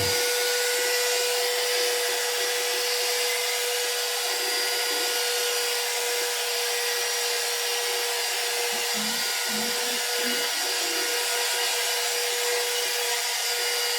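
A hair dryer blows a woman's hair with a constant, loud, airy whoosh and a steady high whine. It runs without a break, with a few faint handling bumps partway through.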